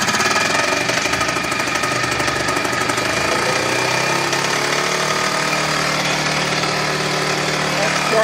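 The engine of a restored 1971 Harley golf cart runs up close and loud, a rough, knocking, jackhammer-like rattle that settles into a steadier idle.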